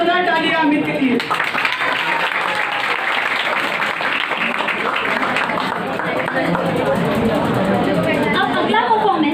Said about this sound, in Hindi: एक बार जोरदार तालियां अमित के लिए।